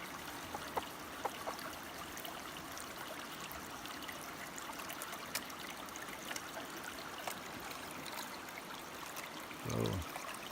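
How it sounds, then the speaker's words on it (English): Steady water of a creek flowing at a gold-prospecting spot, a soft continuous trickle and rush with faint ticks and splashes, and a brief louder bump near the end. "Beautiful day to be out on the creek here though."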